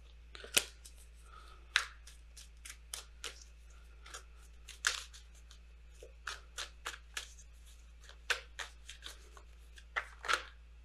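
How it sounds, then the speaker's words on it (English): Oracle cards are shuffled by hand, producing a string of crisp, close riffling and slapping bursts at irregular intervals over a quiet room hum. "If I can shuffle."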